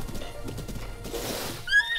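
A horse in Breath of the Wild gallops with quick hoofbeats, then lets out a sharp, bright neigh near the end, with no talk.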